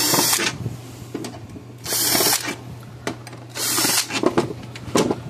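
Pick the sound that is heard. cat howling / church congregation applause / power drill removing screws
power drill removing screws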